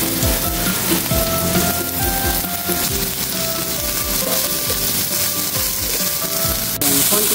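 Garlic and onion sauté in hot oil in a pan for Filipino ginisang mais, a steady loud sizzle with crackling bursts and stirring scrapes throughout, ending with a sharp clink.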